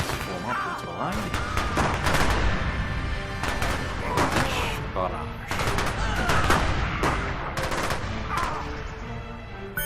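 Musketeers fire volleys in the fantasy strategy game Rise of Legends: dense, overlapping crackling gunfire that repeats in bursts across the battle, loud and continuous, with game ambience beneath.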